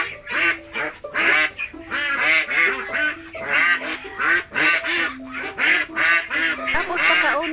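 A flock of hungry ducks quacks loudly and repeatedly at close range before feeding, overlapping honking calls in irregular bursts with short pauses, with faint talk mixed in.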